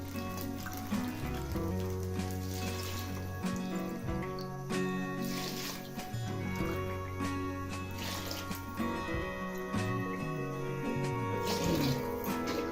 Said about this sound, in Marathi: ह्यामध्ये आता तुमच्या तांदळाच्या प्रमाणे पाणी घालून घ्यायचं आहे